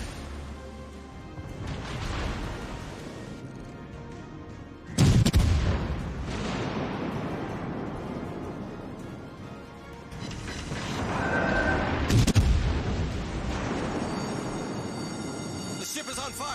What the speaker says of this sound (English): Got shells incoming from the battleship.